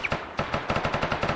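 Automatic weapons fire rapidly in the Arma video game, a quick run of sharp, evenly spaced shots lasting over a second, with no talk.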